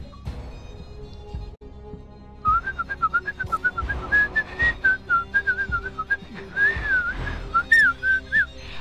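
A person whistles a bouncy tune in short repeated notes after a quiet start, close and clear over faint background game sound.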